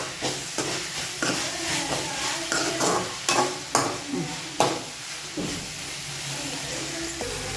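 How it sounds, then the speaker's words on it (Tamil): Soy sauce and chilli sauce hit a hot pan while making pasta, producing a loud, close sizzle with bursts of hiss and repeated stirring clatters against the pan. "கொஞ்சோண்டு சோயா சாஸ் அப்புறம் சில்லி சாஸ் ஊற்றிக்கணும்"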